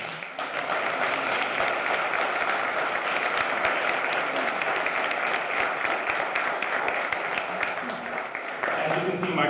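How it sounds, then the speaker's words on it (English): Sustained round of applause from an audience at a state bar admission ceremony, many hands clapping in a dense, even roar for nearly ten seconds, with faint voices mixed in near the end. "I want to give her again a round of applause"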